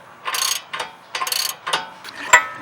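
A hand ratchet tightens bolts while a drop plate goes onto a MK4 Jetta/Golf, giving several bursts of rapid close clicking separated by short pauses, ending with a sharper single click.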